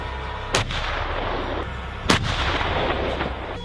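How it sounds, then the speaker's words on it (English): M1 Abrams tank 120mm smoothbore cannon firing twice, two sharp booming blasts a little over a second and a half apart, each leaving a rumbling tail over a continuous background roar. "It is a supremely lethal machine equipped with a 120mm smoothbore cannon that can turn a man to mist from up to 2 miles away."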